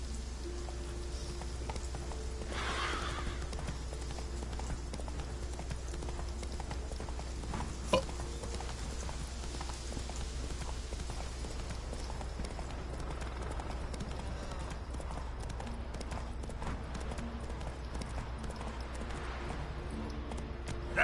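Roach, the horse in the video game The Witcher 3, gallops with a steady, soft clip-clop of hooves set against a rain-like hiss and a constant low hum.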